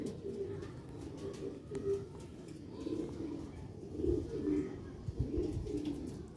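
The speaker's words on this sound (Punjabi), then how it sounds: "ਇਹ ਨੇ ਜੌਂਸਨ ਮੋਤੀਆਂ ਦੇ ਕਬੂਤਰ" Sialkot pearl-eyed pigeons of an old original breed coo in repeated low, rolling phrases, close and steady, several birds overlapping with no talk.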